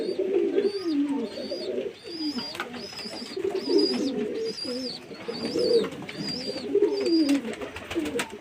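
Pigeons coo in a steady rhythmic series of soft throaty calls, close by and overlapping, with faint chirps on top, on a hot day while drinking water.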